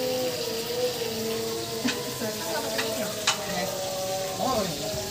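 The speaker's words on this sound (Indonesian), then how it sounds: "Goreng kan, kita bergoreng. Mentega pakainya." Food frying in butter in a pan, a steady loud sizzle with stirring clatter and occasional scrapes throughout, spicy seasoning mixed in, with faint voices in the background.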